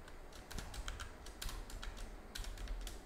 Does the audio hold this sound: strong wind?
no